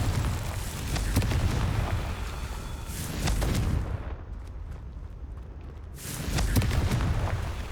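Confringo blasting-spell explosions in Hogwarts Legacy: several heavy booming bursts with rumbling tails, close and loud, separated by a quieter gap before a final blast, no voices heard.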